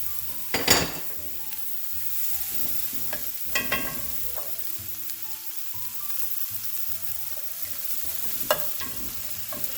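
White and green onions sizzle in a pan with a steady soft hiss, broken by sharp scrapes and clacks of a utensil stirring them, several close stirring strokes spread across the clip, no talking.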